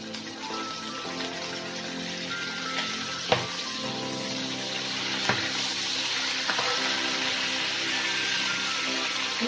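Curry leaves hit oil with browning ginger-garlic paste for a Bohra chicken leheri gravy, giving a steady, close sizzle with a few sharp pops and crackles and no talking.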